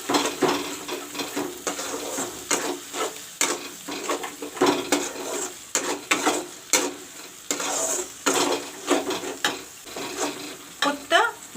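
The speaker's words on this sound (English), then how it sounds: "This also I will put in. I will let this also brown with the masala." Homemade tomato puree browning with masala in a pan, heard as a soft continuous sizzle broken by repeated scraping and clinking as a utensil stirs against the metal pan, with no talking.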